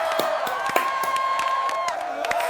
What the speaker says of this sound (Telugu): ఆప్షన్ బి చెప్పిన వాళ్ళకి క్లాప్స్